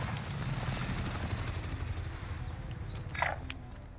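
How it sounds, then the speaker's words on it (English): A supply helicopter arrives in Call of Duty Warzone, its steady rotor thump loud and continuous for the whole stretch, joined by a short bright burst of game sound near the end. "Supply chopper's inbound."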